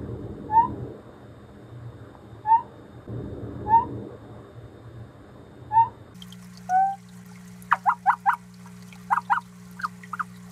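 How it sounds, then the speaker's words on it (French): Male reptile giving a chirping night call, short bright chirps spaced a couple of seconds apart, then a quicker cluster of clicky chirps, over a low steady hum in a quiet room. "Le chant est vraiment trop mignon. On est à mi-chemin entre le saut de Mario, vous savez, le bruit quand il saute"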